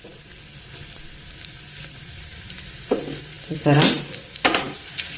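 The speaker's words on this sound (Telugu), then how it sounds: "ఇప్పుడు మనము అసలైన చిటికెడి ఇంగువ వేసుకుందాం" A pinch of asafoetida goes into hot tempering oil for a quinoa idli chutney. A quiet sizzle swells into louder bursts of crackling and spattering, while a voice briefly speaks.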